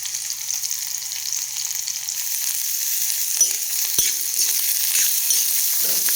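Green chilies and crushed ginger frying in a pan as onions go in, a steady bright sizzle that thickens after a couple of seconds, with a few soft stirring knocks.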